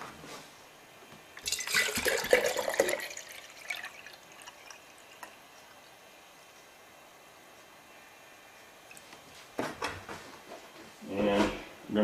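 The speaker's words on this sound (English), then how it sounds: "fill it with distilled water." Distilled water poured into a jar, heard as a short splashing trickle near the start and another brief burst near the end, with quiet stretches between.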